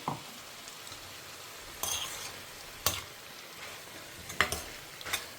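Grated coconut stirred and sautéed in a hot pan, with a soft steady sizzle and several sharp scrapes and clinks of a spoon against the metal, close up, no talking.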